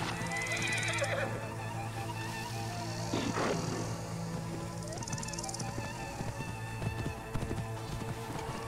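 A horse whinnies and neighs in distress while under attack in the video game Assassin's Creed Origins, with repeated shrill cries over clopping hooves and a steady game soundscape throughout.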